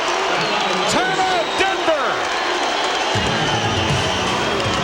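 A 1996 Bulls vs Nuggets game plays out as a basketball arena crowd roars loudly and steadily throughout, with a commentator's excited voice carried over the cheering.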